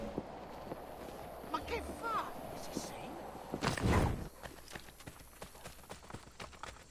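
Horse hooves clip-clop in the Assassin's Creed Brotherhood video game, a light rhythmic patter with a louder burst midway, heard under game sounds and background noise.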